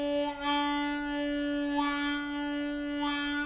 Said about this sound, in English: And then the wah sounds like this.